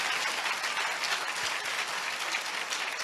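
A church congregation claps steadily in dense, continuous applause, loud and close, filling the whole stretch without pause.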